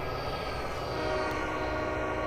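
A freight train in a railroad simulator game on the Castle Rock Railroad rumbles past in a steady, continuous roar, with a faint tonal whine running through it and no talk.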